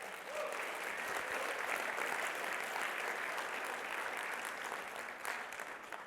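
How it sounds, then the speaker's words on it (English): Applause from a keynote audience at a software product launch, steady and even, heard from some distance at moderate volume for about six seconds. "Can we give them a round of applause?"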